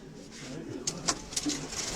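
Racing pigeons in a loft coo softly in a low, rolling murmur, with a few sharper bright calls and light wing or feather rustles over a steady faint background.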